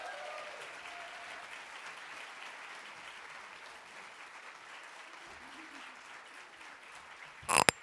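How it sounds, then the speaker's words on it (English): An audience at a California climate policy summit plenary applauds a speaker as she comes up, a steady, moderately loud wash of clapping that holds throughout and ends with a sharp, loud knock. "Can we all please give her a big round of applause as she makes her way up here?"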